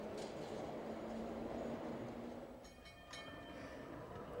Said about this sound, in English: Some people go by underground.